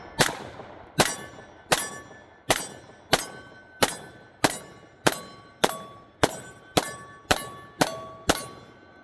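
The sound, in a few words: SIG X-Ten pistol firing Blazer brass rounds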